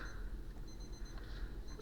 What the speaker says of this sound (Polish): Zostawiłem budzik na pierwszą